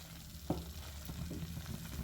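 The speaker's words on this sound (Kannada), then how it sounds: "ನೀವು ಈ ಮಸಾಲನ ಚೆನ್ನಾಗಿ ರೋಸ್ಟ್ ಮಾಡಬೇಕು" Masala for Kerala-style egg roast sizzling and roasting in a pan, a steady close frying hiss with a single sharp clatter of stirring near the start and soft scraping throughout, no voices.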